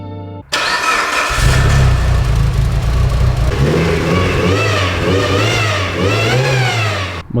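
A car with a noisy power steering system starts up and runs: a loud, continuous engine roar with a rough whining drone that rises and falls as the engine revs, close by and without speech.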